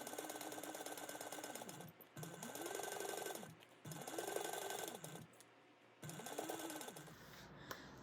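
A sewing machine basts a bag seam at an eighth of an inch in four close bursts of rapid mechanical stitching, each a couple of seconds long, separated by short pauses.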